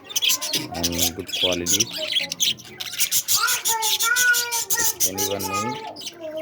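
Lovebirds or budgies kept as breeding pairs chirp and squawk in a lively, continuous chorus close by, while someone talks over them throughout.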